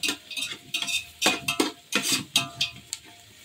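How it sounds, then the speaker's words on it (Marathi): Onions frying in a spiced tempering for village chicken curry, stirred briskly with a spatula in a pan, giving a rapid, uneven series of scraping strokes over a soft sizzle. "कांदो लाल होईपर्यंत द्यायचा"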